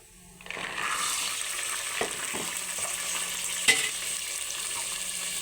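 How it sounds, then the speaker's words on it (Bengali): Soaked peas and potatoes with black cumin frying in oil, a hissing sizzle that starts abruptly as they go in, with a few sharp clinks and stirring scrapes. "এবার আমি ভিজিয়ে রাখা মটর আর আলুটা দিয়ে দেব"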